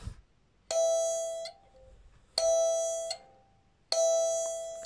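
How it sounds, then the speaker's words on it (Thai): A kalimba with a buzzing tine sounds one note three times, each a bright ringing pluck with a metallic rattle that lasts about a second. Each is cut short before the next, with quiet gaps between. "ผมเช็คไปแล้วโน้ตตัวนี้จะเป็นเสียงบัสนะครับ"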